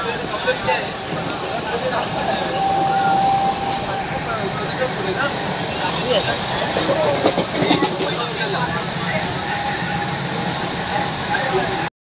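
A local train pulls into Neral station on the Badlapur–Karjat line, a loud, steady rumble of wheels with a thin squeal running through it, while voices talk faintly in the background.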